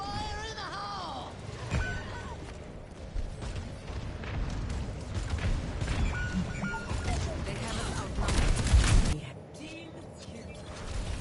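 A grenade going off in Overwatch 2 amid chaotic match noise and a talking player, building to one heavy booming blast before the din drops away.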